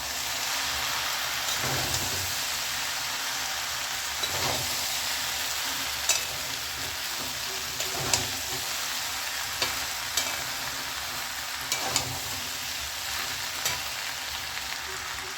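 Spices with salt and turmeric are stirred together with vegetables and figs in a frying pan, a constant rain-like sizzle punctuated by sharp scraping and tapping strokes of a spatula at irregular intervals.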